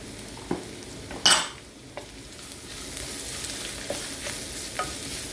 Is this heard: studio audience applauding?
no